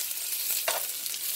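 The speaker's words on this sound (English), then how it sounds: "we're gonna let this saute a little bit" Cabbage sautéing in a skillet with onion gives a steady, soft sizzle and hiss throughout, plus a brief stir or scrape near the middle, with no voices.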